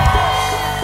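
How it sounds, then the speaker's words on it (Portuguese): A crowd at a live forró concert shouts and cheers together, loud and close, over booming band music in a brief burst. "Quem tá gostando, levanta o braço e dá um grito aí."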